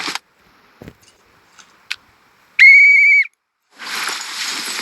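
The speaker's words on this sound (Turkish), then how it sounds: "Şuradan bir düdüğümüzle çağıralım." A single bright, steady whistle blast lasting under a second, preceded by a few faint clicks and followed by a burst of hissing noise.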